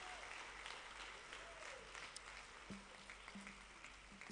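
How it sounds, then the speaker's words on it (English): Crowd applause for a traditional dance troupe at a Kigali graduation ceremony, heard as a continuous, fairly faint patter of many hands clapping at a distance, holding steady throughout. "Have a bigger round of applause for our traditional dance troupe."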